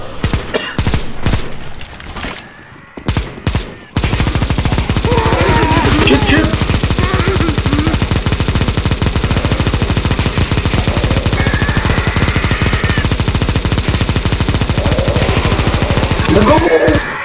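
Counter-Strike: Global Offensive zombie escape mod gunfire: a few separate shots at first, then a loud, unbroken stream of rapid fire from many weapons at once, with voices faintly underneath.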